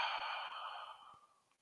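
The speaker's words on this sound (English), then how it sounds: "In through the nose, out through the nose. Breathe deep." A person breathes deeply in and out through the nose during a guided yoga-style stretch: one long, soft airy exhale that gradually fades, close and quiet with no talking.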